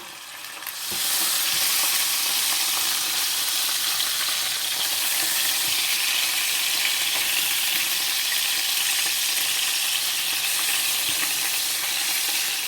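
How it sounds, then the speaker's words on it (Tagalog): Chicken pieces browning in a skillet give a loud, dense, continuous sizzle that starts abruptly after about a second and holds steady to the end, close up with no voices. "Kailangan lang natin i-fry ng kahit mag-brown lang siya ng konti guys yung ating chicken."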